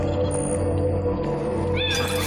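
A cat meows in the video game Timelie, a short rising mew near the end over a steady tonal game soundtrack, fairly soft against the music.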